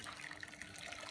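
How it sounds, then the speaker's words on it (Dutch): Boiling hot water poured into a bowl for melting chocolate, heard as a steady, close, continuous splashing rush of liquid, with no voices. "Je doet het kokend heet water"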